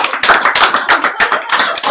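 A church congregation bursts into applause during a Sunday worship service, sustained crowd clapping in repeated waves, loud and close, with no talking over it.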